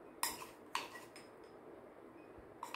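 Coconut mixture is pounded in a small mortar and pestle. Three or four sharp, clinking knocks sound at irregular intervals, close by and fairly quiet, with near silence in between.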